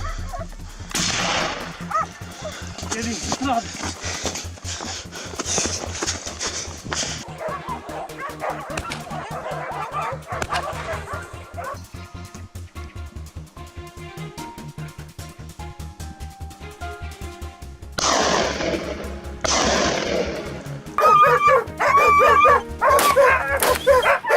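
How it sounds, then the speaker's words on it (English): Hunting dogs closing in on wild boar in thick brush bark repeatedly and excitedly, mixed with yips, whimpers and rustling throughout, loud and close with some calls more distant. "As we closed in, the dogs sprang into action"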